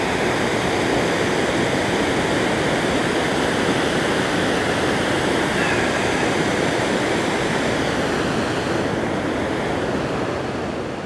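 Water spills over the edge at Goose Creek Falls in a continuous heavy rush, near and loud throughout, easing slightly at the very end with no speech.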